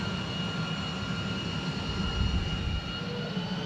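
An X-35B jet engine runs in a hover pit test with its hot exhaust vented out the side, giving a loud continuous roar with steady high whine and rumbling low end and no speech.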